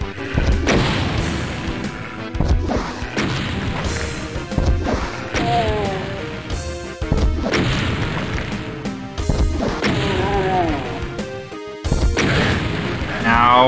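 Rocket launcher blasts in Doom during a boss fight, a series of heavy booming explosions and crashes at irregular intervals, dense and loud amid game noise.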